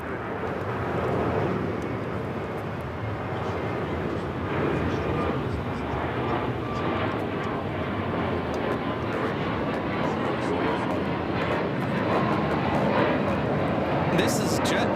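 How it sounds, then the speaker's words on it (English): A JetBlue Airbus A321neo, Flight 288 to Boston, takes off at LAX with a steady broad engine roar at moderate distance, building slightly toward the end; people talk faintly over it. "This is JetBlue Flight 288 taking off to Boston on the A321neo."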